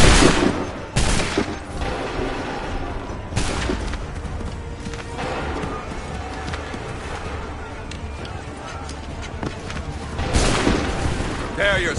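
Musket volleys crack out in the Assassin's Creed III game, with dense bursts of gunfire near the start, around four seconds and again near the end, over a busy battlefield din with voices.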